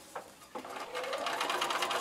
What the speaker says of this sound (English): Now, when I sew this, I want to start past the dashed lines.